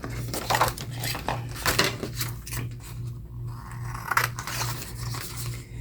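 Scissors cutting cardstock for junk journal postcards, a series of crisp close-up snips and rustling paper in uneven bursts, with a few light handling clatters between cuts.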